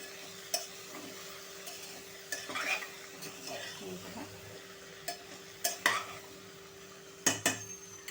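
Okra with salt is stirred in a pan over a low flame while cooking tomato bhendi. A spoon scrapes and clinks against the metal pan in a few separate bursts over a faint sizzle, close up, with no talking.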